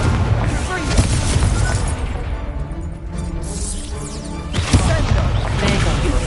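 Loud, booming spell explosions with crashing bursts rumble through Hogwarts Legacy combat on PS5, dense and continuous, while a voice calls out over the blasts.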